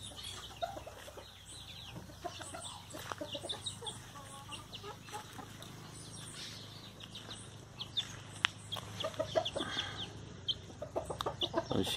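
Backyard chickens cluck and call repeatedly in an open pen area, a busy mix of near and farther hen voices with occasional sharp squawks, with no talking over them.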